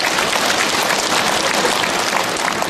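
A congregation at a Catholic gathering breaks into loud, dense, sustained clapping that holds steady throughout.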